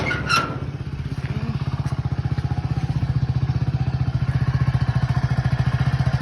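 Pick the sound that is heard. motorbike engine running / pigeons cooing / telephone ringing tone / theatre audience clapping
motorbike engine running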